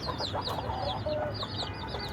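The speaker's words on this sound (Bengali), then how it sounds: "ও খুব ভালো একটা মুরগি" A chicken clucks repeatedly, close by, over a busy background of small birds chirping; no one speaks.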